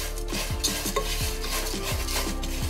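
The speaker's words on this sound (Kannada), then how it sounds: "ಈ ಅವಲಕ್ಕಿ ತುಪ್ಪದೊಟ್ಟಿಗೆ ಚೆನ್ನಾಗಿ ಮಿಕ್ಸ್ ಆಗಿ ಚೆನ್ನಾಗಿ ಫ್ರೈ ಆಗಿ ಸಿಗ್ಬೇಕು" Flattened rice (poha) frying in ghee in a pan gives a steady close sizzle, with repeated scraping and stirring strokes of a spoon against the metal throughout and no voices.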